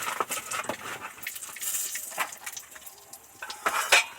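Dried red chilies and a bay leaf split in two crackle in hot oil in a kadai, with light utensil clinks and stirring scrapes over a quiet spitting sizzle, no voices.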